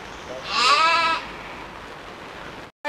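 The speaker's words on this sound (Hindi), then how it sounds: "ओ बगीचा का अंदर बकरी भी है देखिए" A goat bleats once in a horticulture garden, a clear, wavering cry lasting about half a second at moderate distance over steady outdoor background noise, followed by a short silence and an abrupt cut.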